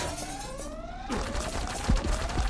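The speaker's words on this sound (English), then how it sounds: "the turret starts shooting me" A game turret fires rapid gunfire, a loud close burst of crackling shots with thumping low impacts against electronic tones and sweeping synth lines.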